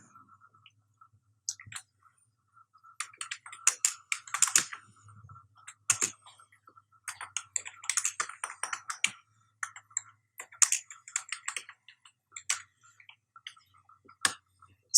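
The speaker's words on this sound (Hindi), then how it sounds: "वहाँ पर मैं अपनी दोबारा से टाइपिंग शुरू कर देता हूँ" Typing on a computer keyboard while entering data into Excel cells comes as irregular clusters of crisp, close key clicks with short pauses between bursts, and no talking.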